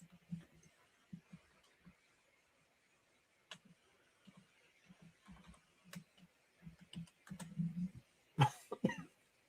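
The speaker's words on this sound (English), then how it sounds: "I don't know what is up with this cough tonight" Several short coughs and a throat clear from a person watching a Mets vs. Brewers baseball game, scattered through a quiet room with faint typing-like clicks, the loudest bursts near the end.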